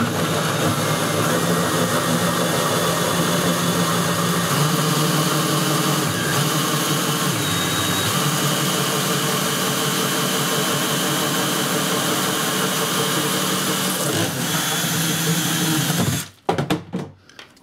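A power drill whirs loudly and continuously for a long stretch, then abruptly stops with a few clattering knocks as the drill bit comes off.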